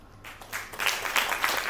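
An indoor audience breaks into applause for a couple being congratulated at a book review event. The sound starts soft and swells into steady, moderately loud clapping for a couple of seconds.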